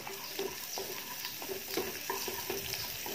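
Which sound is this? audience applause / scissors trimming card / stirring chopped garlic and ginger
stirring chopped garlic and ginger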